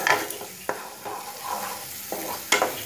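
Onions frying in a pan while being stirred for spinach paneer: a soft, steady sizzle broken by a few sharp scrapes of the spoon, close up, with no talking.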